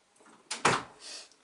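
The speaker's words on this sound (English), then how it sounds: "Jocelyn, close my door." A door swings and shuts with one firm thud that follows a short slide, close and fairly loud, then a brief softer rattle.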